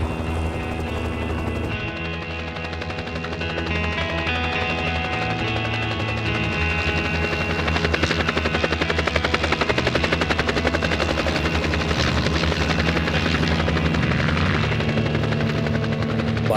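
Helicopter in flight with a loud, continuous rotor chop and engine drone, the rhythmic thumping sustained and growing slightly stronger toward the end.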